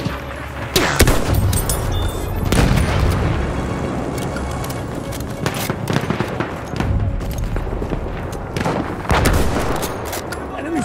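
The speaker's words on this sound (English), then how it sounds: "Wait for the enemy artillery barrage to stop the fire." Battlefield 1 combat erupts with heavy booming artillery blasts and bursts of gunfire, loud and close, with crackling explosions spread across the scene and faint voices under the battle noise.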